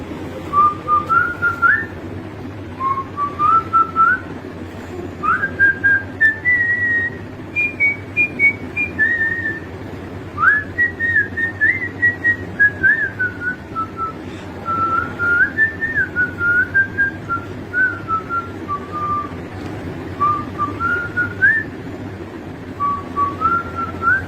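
A person whistles a song melody alone, a clear wavering tune in continuous phrases with short breaths between them, close and steady for over twenty seconds.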